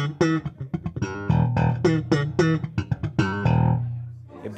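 A bass guitar through an Xotic Bass RC Booster clean boost pedal at a guitar and amp show rings out a quick run of bright, punchy plucked notes, loud and close, with sharp attacks and the final note left to ring.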